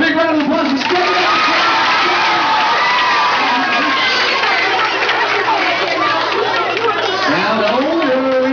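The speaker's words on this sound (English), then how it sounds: "let's all give him a big round of applause" A school audience cheers and shouts with children's voices amid clapping, a loud, continuous crowd roar with whoops and chatter filling the whole stretch.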